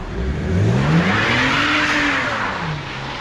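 A rebuilt wrecked BMW E92 325i M Sport drives away, its engine revving loud and close with a rising then falling pitch as it accelerates.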